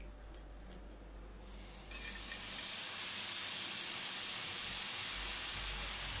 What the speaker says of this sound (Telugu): ఆనియన్స్ అయితే ఫ్రెష్గా ఇలా కడుక్కొని మనమైతే పెంక మీద వేయించుకుందాం